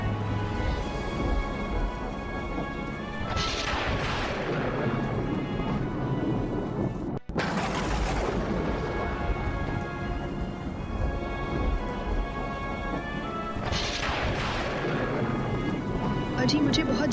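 Heavy rain pours during a flood in an animated village story, a constant dense roar of water with rumbling thunder swelling in places, loud and unbroken apart from one short cut near the middle.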